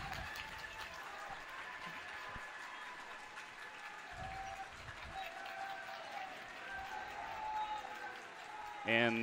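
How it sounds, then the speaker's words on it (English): A crowd at a varsity girls basketball game between Manitowoc Lutheran and Winnebago Lutheran roars in the final seconds, a sustained distant wash of cheering and clapping under an announcer's voice, with a sharp squeak right at the end. "the crowds are getting loud here for this final 18 seconds"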